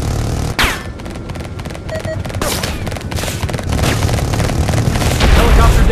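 An enemy helicopter explodes in the VR combat flight game Warplanes: Air Corp, a deep boom followed by a burst of rapid gunfire-like pops and rumbling blasts, building louder toward the end amid dense game sound effects.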